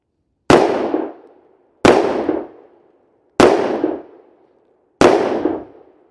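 Four loud, sharp pistol shots from an FN 510 firing 220 grain ammunition, spaced about a second and a half apart, each with a short ringing decay, with no talking.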